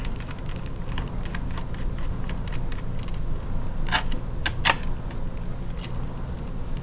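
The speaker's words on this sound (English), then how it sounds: "next you have to take off the memory top." Small plastic clicks and taps come up close as the memory cover is worked off a Dell Inspiron laptop, with two sharper snaps near the end over a low room hum.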